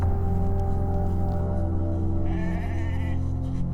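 A sheep bleats once in a wavering call in the New Zealand high country of Fiordland, heard over a loud, steady low drone.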